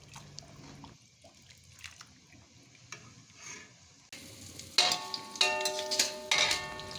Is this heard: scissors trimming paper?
no